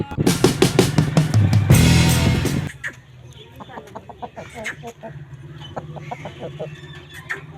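A rooster and chickens cluck and squawk loudly at first, then softer scattered clucks continue against quiet outdoor background in Mianwali, Pakistan.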